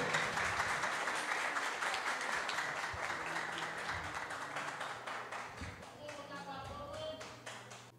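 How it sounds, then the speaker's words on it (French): Sustained applause from an audience at an interschool quiz semi-final, dense and steady, gradually thinning toward the end as a few voices and a brief musical chime come through. "Je vais demander à l'assistance à applaudir deux équipes, s'il vous plaît"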